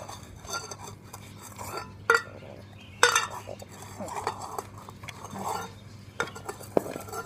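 A spoon scrapes and clinks against a bowl as dog food is mixed with cheese powder, with irregular stirring scrapes and a few sharper knocks close up; no talk.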